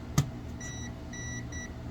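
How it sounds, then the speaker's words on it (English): ZOTEK ZT-Y multimeter's non-contact voltage sensor gives three short, faint high-pitched beeps in a quick series over a quiet background hum, after a brief click. "and it beeps. It tells me that I got voltage coming out of there."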